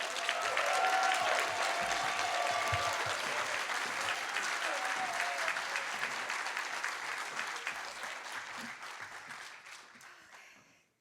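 An audience at a social innovator showcase applauds, a dense, sustained clapping that stays loud and even across the room, then thins and fades out near the end.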